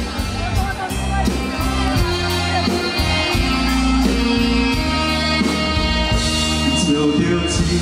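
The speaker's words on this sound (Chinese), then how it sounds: "来个10万人的尖叫声好吗？" Concert audience screaming and cheering at a live show, loud sustained shrieks and whoops mixed with a singer's voice and band music, the crowd noise continuing throughout.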